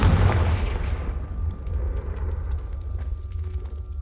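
Confringo fire spell explosion in Hogwarts Legacy, a loud, deep boom that hits at once and rolls off into a long rumbling decay, with no voices over it.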